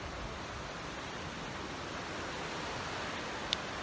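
Water washing against a shore produces a steady, even roar of surf with no distinct breaks and no voices.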